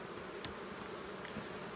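Honey bees hum steadily around an opened hive in August after the honey was stripped, a soft, even buzz with a few faint higher whines of bees passing near, heard alone without voices.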